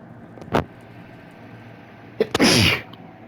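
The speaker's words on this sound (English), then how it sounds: "Sorry, I had to sneeze there." A brief sharp intake, then a loud, close sneeze burst about two seconds later, with faint road noise in the background.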